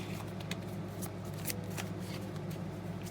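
Tarot cards are shuffled close by, producing a soft, continuous riffling and brushing with small sharp flicks over a steady low hum.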